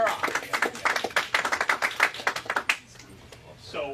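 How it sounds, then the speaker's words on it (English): An audience applauds a speaker at a Capitol Hill event in Washington, D.C., a dense run of close claps lasting nearly three seconds before fading into quiet room tone, with a voice beginning at the end. "Everyone give Sarah a round of applause."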